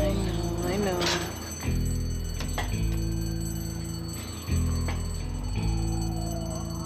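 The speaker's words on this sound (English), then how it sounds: "It's just a false alarm." An electronic false alarm sounds in a home, repeating loud tonal beeps in a regular pattern with pauses between bursts.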